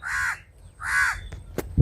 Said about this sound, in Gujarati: હવે આ કાગડો છે ને મારી આજુબાજુ જ ફરશે